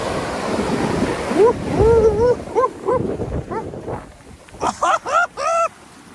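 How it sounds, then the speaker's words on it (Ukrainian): Ocean surf rushes and breaks nearby under wind noise on a California beach, while excited voices call out and laugh over the water. "Які хвилі!"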